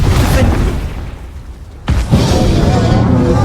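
Confringo spell explosions in the video game Hogwarts Legacy, two loud booming blasts with a rushing burst, the second striking about two seconds in, close and dense.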